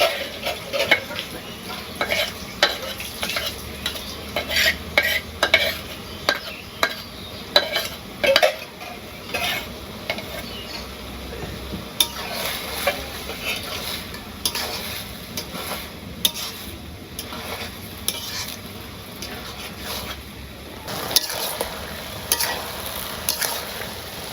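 Fish frying in a pan with water lily stems, a soft steady sizzle under frequent stirring scrapes and light clinks of a utensil against the pan, moderately quiet and close.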